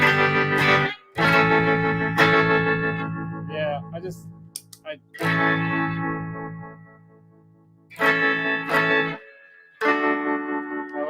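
An electric Stratocaster-style guitar played through a JAM Pedals Harmonious Monk harmonic tremolo set to plus mode, loud chords throbbing and ringing with gaps between phrases, a brief spoken word in between.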